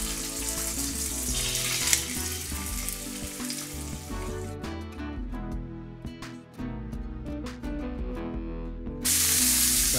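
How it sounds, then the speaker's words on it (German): Very thin lamb fillets sear hard in hot olive oil in a pan, giving a steady, loud, close sizzle and spatter that lasts the whole stretch with no talking. "Nur ganz scharf anbraten von beiden Seiten."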